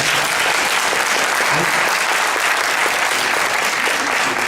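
An audience at a congressional candidates' open forum breaks into dense, steady applause, loud and continuous throughout with faint voices underneath.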